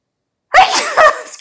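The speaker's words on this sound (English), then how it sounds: "I have to sneeze." A single loud, close sneeze bursts out after a moment of silence, a sharp intake followed by the explosive release, from a woman giving a tarot reading.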